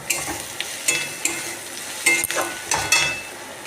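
Turmeric, chili powder and salt sizzle in a hot pan for a tangy-spicy prawn fry, with intermittent scraping strokes of a spoon stirring the spices, close and fairly loud, no talking.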